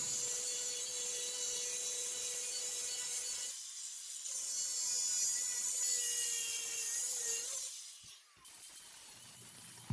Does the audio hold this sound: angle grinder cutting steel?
yes